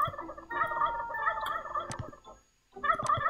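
A turkey in the Roblox game Wacky Wizards gobbles in a long rattling burst, goes briefly silent, then starts gobbling again, close and distinct.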